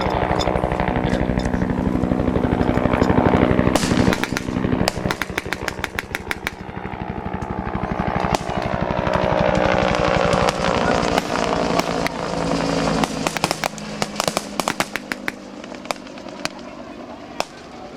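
A Bell UH-1 Iroquois Huey helicopter at a Vietnam battle reenactment during the 2013 Thunder Over Michigan air show, its rotor giving a loud, rapid, steady thumping chop with engine whine, holding close for a long stretch and briefly fading near the end.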